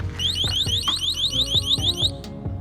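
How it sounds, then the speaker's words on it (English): A loud electronic anti-theft alarm on an e-bike, rated 100 dB, shrieks in rapid repeating chirps, a fast warbling siren pulse with sharp clicks underneath, continuous and close. "so there's an integrated alarm. I would say it's loud, it's okay, it's 100 dB"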